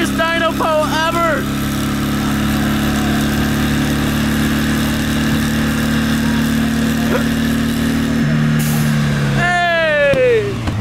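An American muscle car runs hard on a chassis dyno at an import-versus-domestic dyno event, making a loud, steady engine drone that swells and sweeps upward near the end, with brief excited voices at the start and finish.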